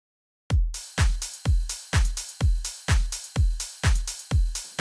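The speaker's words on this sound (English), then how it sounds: "So if you listen to all the drums, it sounds like this." Drum loop from the Overdrive sample pack plays alone: a punchy kick hits about twice a second under layered claps and crisp hi-hats, in a steady, loud groove repeating through the whole stretch.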